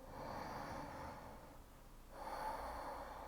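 A big breath drawn in during a slow, relaxing yoga flow, heard as two soft airy swells of breathy noise separated by a brief quieter pause, close and fairly faint with no talking.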